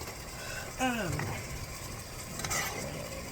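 Beans being stirred in a pan on a greasy stovetop, a soft scraping and faint sizzle running steadily beneath a brief voice.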